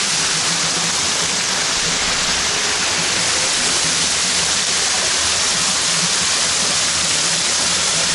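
Water from a natural spring pool in Hidalgo, Mexico pours down in a steady, loud, close rush that never lets up, with no voices over it.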